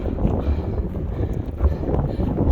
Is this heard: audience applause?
no